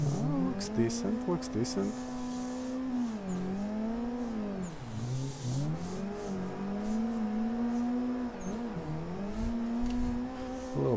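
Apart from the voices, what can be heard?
car engine revving while drifting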